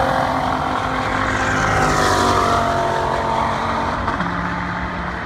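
A Nissan GT-R and a Dodge Viper race a half-mile at a Georgia event, a loud, continuous engine roar with rising and shifting pitch as the cars pass, heard from nearby with no speech.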